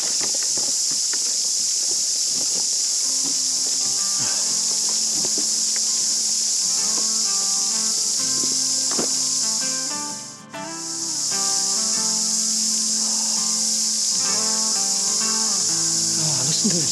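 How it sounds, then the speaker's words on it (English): Cicadas in New Zealand bush in the Hunua Ranges shrill in a loud, continuous high buzz that fills the air, briefly dipping before resuming, with some faint bird-like notes beneath on a still morning. "Listen to the cicadas, deafening."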